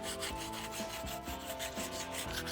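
A rasp files the inside of a part in steady back-and-forth strokes, a rhythmic close scraping with no voices.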